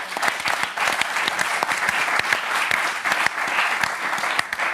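A television studio audience applauds a football show guest: dense, steady clapping from many hands that holds evenly throughout at moderate loudness, with no talking over it.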